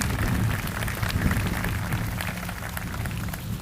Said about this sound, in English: Give him a round of applause again, please